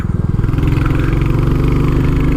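A 2022 Royal Enfield 350 Classic single-cylinder motorcycle pulls hard through third gear on a back lane, its steady loud thumping exhaust note rising continuously and close by with no talk.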